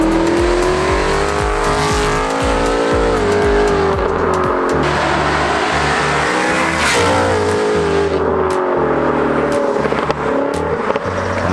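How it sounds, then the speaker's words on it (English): A Whipple-supercharged car with headers and a catback exhaust, freshly dyno tuned, accelerates hard on the road. The engine note is loud and close, climbing in pitch through repeated gear pulls, with no talking. "The car's dialed in now, test it out on the road, see how it feels."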